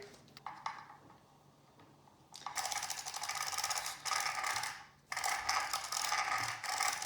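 Mechanical clicking and ratcheting of small plastic high-speed gears being fitted to a Traxxas Rustler 4x4 VXL RC car, close up, with bursts of busy whirring that start and stop.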